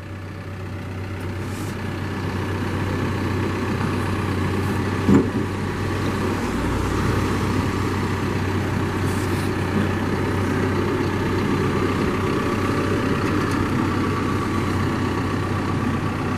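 Diesel engine of a 2014 Caterpillar 420F backhoe loader running steadily while the machine spins around, a close, continuous low rumble with a constant hum and one brief knock midway.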